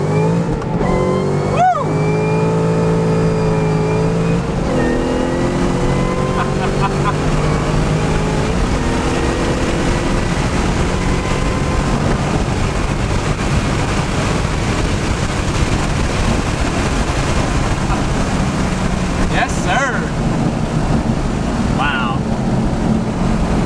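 A modified 675 wheel-horsepower Ford Mustang GT500 pulls from first gear, its engine note climbing in a long rising drone with heavy wind and road noise heard from inside the cabin.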